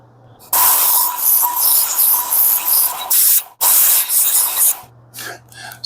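A Work Sharp belt sharpener grinds a small hewing axe on its coarsest belt, producing loud, close, harsh hissing bursts that start and stop several times, with motor hum in the pauses.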